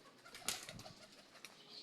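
Pigeons take off together with a sharp burst of wing flaps, followed by a few softer flutters and faint coos, fairly close and quiet outdoors, no talking.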